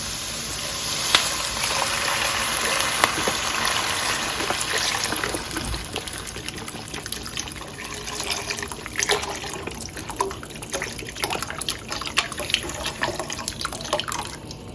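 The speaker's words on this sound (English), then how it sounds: "To this, I'm gonna add 1 box of chicken stock." A box of chicken stock pours into a pot of softened onions, giving a continuous splashing, gurgling rush with light sizzling crackles underneath and no voices.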